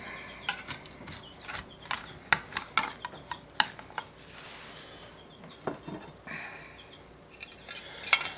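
A utensil cutting and scraping a piece of cheeseburger pie with a bacon mix out of a baking dish onto a plate, a series of sharp close clinks and scrapes, some soft rubbing in between, with no talk.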